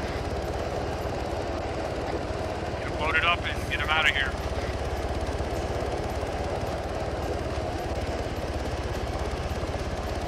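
A helicopter lands in a military video game, its steady rotor and engine drone running throughout while someone speaks briefly over it and a few short chirping radio beeps cut in.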